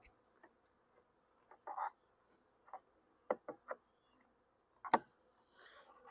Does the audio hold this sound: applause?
no